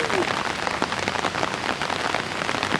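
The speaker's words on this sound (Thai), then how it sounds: "มื้อนี้ฝนมันตก" Steady rain falls on a surface outdoors, a dense, even hiss of drops that keeps going close by, with no voices.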